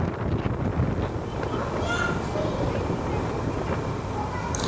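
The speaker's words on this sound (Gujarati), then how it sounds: "પવન ખૂબ જ હતો" Strong wind buffets the microphone at Sudarshan Setu bridge, a steady loud roar with gusty swells and faint distant sounds beneath, no clear voices over it.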